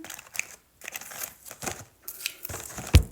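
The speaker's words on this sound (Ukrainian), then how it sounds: "Зараз вам відкрию, покажу, як він виглядає." Crinkling and tearing of thin tea-packet packaging being opened, a few bursts of rustling with short pauses and a sharp crackle near the end.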